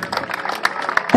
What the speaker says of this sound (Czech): Takže potlesk za nejlepší útok.